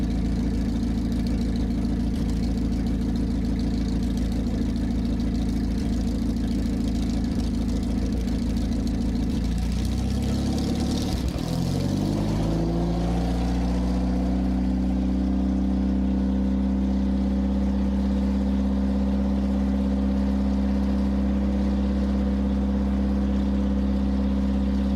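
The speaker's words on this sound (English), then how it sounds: "the engine started smoothly and idled with a steady growl" A historic tank engine with twin carburetors, dual magnetos and twin spark plugs per cylinder, rated over 500 horsepower, runs loud and close, its rough roar shifting pitch midway before settling into a steady, deep idling growl.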